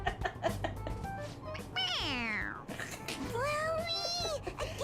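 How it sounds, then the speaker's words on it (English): A toy cat meows when its head is pressed, producing two drawn-out electronic meows with falling and wavering pitch. Brief talk and clatter come just before and between them. "It meows when you press on its head."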